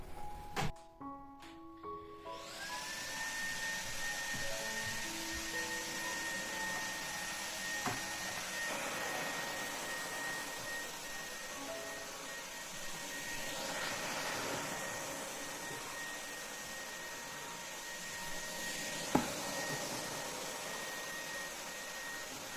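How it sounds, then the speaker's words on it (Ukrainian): A cordless battery vacuum cleaner cleaning a house floor, heard as a steady close whine that spins up at the start and then runs continuously, with faint bumps and shifts in pitch as it moves. "пилососом збираю пил з підлоги. Це акумуляторний пилосос."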